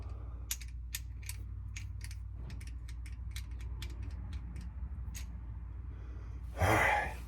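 Quick sharp ratchet clicks from turning a 15 mm socket on an 18-inch wobble extension while installing a transmission dipstick on a fifth-generation Camaro, a few bursts of ticks close by over a low hum, then a brief rustle.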